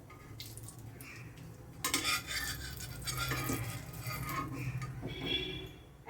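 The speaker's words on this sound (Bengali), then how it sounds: "তেলটা আমার গরম হয়ে গেছে আমি একটা তেজপাতাকে দুই টুকরো করে এর মধ্যে দিয়ে দিলাম একটা শুকনো লঙ্কা এখানে দিয়ে দিলাম" A bay leaf broken in two and a dried chili hit hot oil in a pan, giving a soft, steady sizzle with light clinks of utensil against pot scattered throughout.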